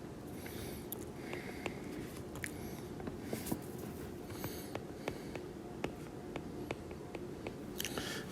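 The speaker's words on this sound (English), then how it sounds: "I'm going to write it on the next line." A pen or marker scratches out math working for a power series, a steady faint scribbling with small tapping strokes over a soft room hiss throughout, close to the mic.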